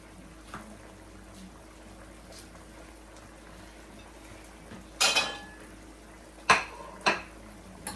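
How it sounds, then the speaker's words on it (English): A knife on a cutting board chopping a Scotch bonnet pepper in a home kitchen, with a few sharp clacks and taps spaced out over quiet background, fairly close. "So now I'm gonna cut up the Scotch bonnet pepper."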